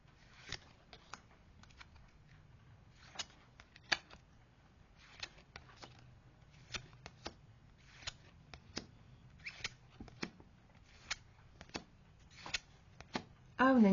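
Oracle cards from a deck of divine answers being shuffled, a string of crisp, close riffling clicks and snaps at an uneven rhythm, repeating over a soft background hiss.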